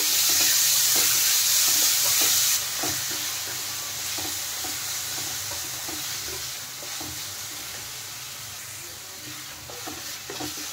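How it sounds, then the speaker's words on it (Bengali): Chopped tomato and chilli powder stirred in a hot pan, a close, continuous sizzle marked by regular scraping strokes and no voices. "আর দিয়ে দিচ্ছি কুচনো টমেটো দিয়ে এখন ভালোভাবে নেড়ে নেব।"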